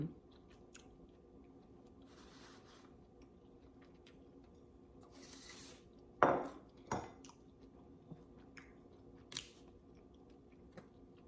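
Close, quiet chewing and a couple of sharper bites on boiled clams dipped in butter, with a faint clink of dishes between bites and a low steady background hum.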